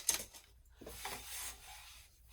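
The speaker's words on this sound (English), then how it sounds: "now I'm going to use a brush to remove the chalk" A brush rubbing chalk marks off the fabric of a sewn weekender travel bag: a few short, soft scratchy strokes, close and quiet, with brief pauses between them and no talking.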